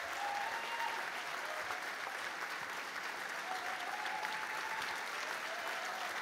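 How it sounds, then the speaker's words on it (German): Sustained applause from the crowd at the opening of the 2020 Regenbogenball for Thomas Marter and Stefan Lehner, a dense steady clapping that holds evenly throughout. "Großen Applaus für Thomas Marte und Stefan Lehner."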